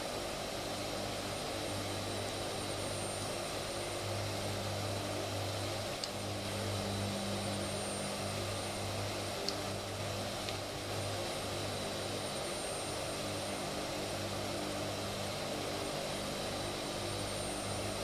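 Steady, loud drone of a Hercules transport aircraft's engines in a flight simulator game, approaching a runway on a Port Macquarie to Broken Hill route in Australia, holding an even roar throughout without talk.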